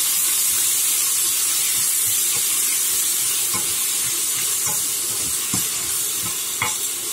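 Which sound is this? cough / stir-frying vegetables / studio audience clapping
stir-frying vegetables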